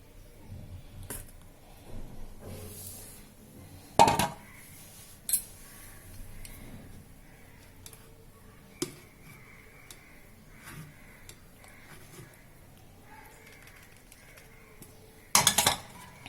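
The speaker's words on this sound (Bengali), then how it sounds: "যে চালনিতে আমি এটা দিয়ে এখন এটা ছেঁকে নেব।" Vegetable roll batter being strained through a sieve in a home kitchen: soft scraping and sparse utensil clinks over quiet room tone, with a couple of louder metallic clatters.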